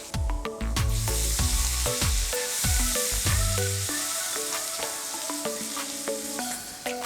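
Asafoetida and grated ginger hitting hot oil in a pan, a loud steady sizzle and crackle with repeated clinks of a spoon stirring against the pan, no talking.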